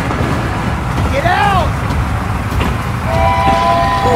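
A train rolls past with steady heavy rumble and a horn toot, while a shouting voice cries out over the noise near a mini tractor hauling a trolley during a Navratri procession.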